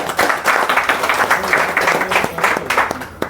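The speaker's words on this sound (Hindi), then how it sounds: "जोरदार ताली" Guests at a local committee gathering clap in welcome: a dense, close burst of rhythmic hand claps, loud and continuous throughout.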